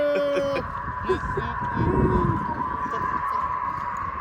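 Birds call beside a road, giving a few short honking cries at the start and again midway over a steady background hum.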